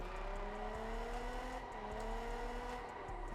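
A stock all-wheel-drive widebody car drifts in Test Drive Unlimited Solar Crown, its engine holding a steady droning note with a rising whine and a faint tire hiss, continuous and fairly quiet, with no voices.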